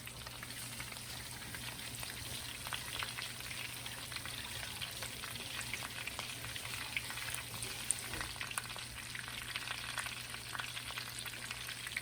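Breaded chicken cutlets for chicken parmesan frying in hot oil, a steady soft crackle and bubbling sizzle with scattered tiny pops, close but fairly quiet, with no talking.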